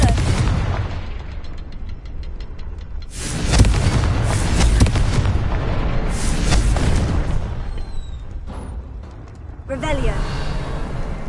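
Spell explosions from the Confringo curse in Hogwarts Legacy, a series of booming blasts and bursts layered over game music and effects, loud and close with a voice speaking between them.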